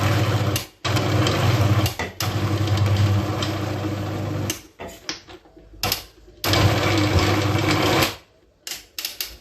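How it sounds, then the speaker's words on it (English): Blender grinding one cup of coconut to a coarse paste, a loud dense whirring roar in several long bursts separated by short pauses, close and alone. "I'm going to blend 1 cup of coconut to a coarse paste."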